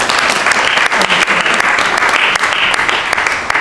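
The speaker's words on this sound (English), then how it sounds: "She deserves applause." A seated audience at a town candidates' forum applauds the timekeeper with a sustained burst of dense, even clapping that carries on throughout.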